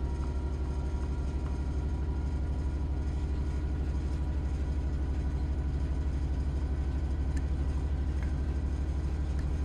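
A Southeastern high-speed train engine in Train Sim World 3 rumbles with a deep, steady, throbbing drone and a fast regular pulse, close and loud, continuous with no speech.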